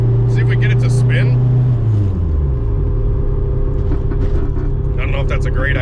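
An AWD K-swapped turbo Honda Civic launches without launch control, a loud, close engine drone that falls in pitch as it pulls away, with rough rumbling underneath and a voice briefly audible over it.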